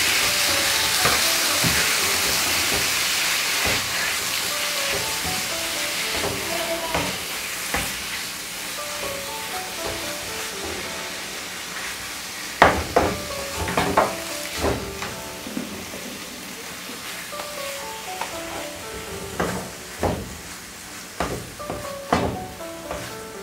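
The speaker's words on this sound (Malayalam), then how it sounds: "ഇനി നമുക്കതിലേക്ക് വേവിച്ച് വെച്ച മധുരക്കിഴങ്ങ് ചേർത്ത് നന്നായി വഴറ്റിയെടുക്കാം." Cooked sweet potato sautés in a pan with ghee while making sweet potato halwa, giving a continuous loud sizzle with frequent clinking scrapes of a spoon stirring throughout.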